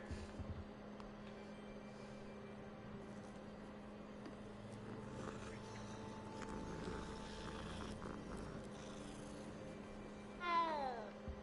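A cat meowing inside the Hogwarts Legacy video game, a short rising-falling meow near the end over steady game ambience and a low hum.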